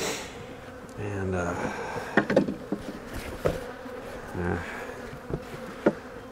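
A tiny honeybee swarm weakened by wax moths buzzes steadily close by, with a continuous drone broken by a few soft knocks and handling bumps.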